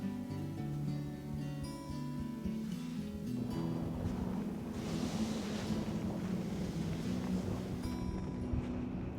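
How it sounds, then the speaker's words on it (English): Wind blowing outdoors during a caribou expedition, a steady rushing roar that stays level and unbroken throughout, with a faint low tonal hum underneath. "The wind is the same as yesterday."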